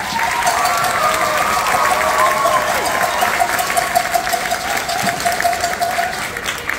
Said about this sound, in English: give you a round of applause for Mr.